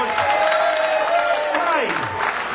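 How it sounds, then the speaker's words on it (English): Live comedy show audience in Luton breaking into applause, a dense wash of clapping overlapping a voice and cheers, steady and loud throughout. "Give him a round of applause."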